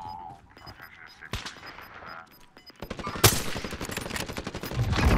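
Video game gunfire crackles in bursts near a radio tower, growing denser and louder toward the end as a player talks over the shots.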